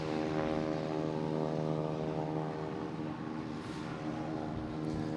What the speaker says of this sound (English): It's a loud plane, but they gotta wait for clearance before they can leave here.